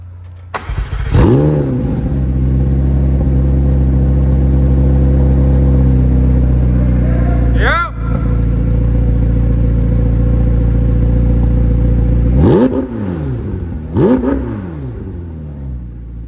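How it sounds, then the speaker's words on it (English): A McLaren MSO 765LT fires up with a loud cranking start and bark, then settles into a deep, steady idle broken by a short blip midway and two sharp revs near the end. "I'm gonna fire it up so you guys can listen to what this thing sounds like."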